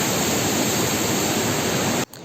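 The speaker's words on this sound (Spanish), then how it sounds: "el río está bastante fuerte." Powerful river rushing at full force through grassy banks in the Bolivian Andes near Sorata, a loud, steady broadband roar that fills the scene, then cuts off abruptly near the end into quieter background.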